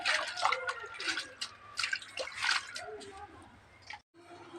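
Saag greens are washed by hand in water to rinse off dust and soil, with splashing, sloshing and dripping close by under a speaking voice. A brief drop to silence comes near the end.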